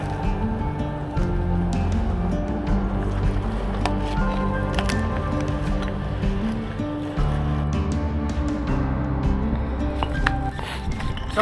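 Strong wind and choppy sea waves buffeting a small outrigger boat near an island, with steady close splashing, sloshing water and knocking against the hull, continuous and loud with no talk.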